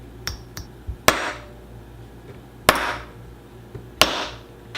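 A hammer strikes an MVMT watch in several sharp, loud metallic blows spaced a second or so apart, each preceded by lighter taps, with no voices.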